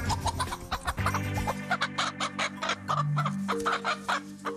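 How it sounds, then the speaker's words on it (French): Laying hens on a family farm cluck and chatter continuously at close range, several birds overlapping in a busy, rhythmic flock chorus. "Alors c'est des poules pondeuses, ils pondent dans des nichoirs empaillés"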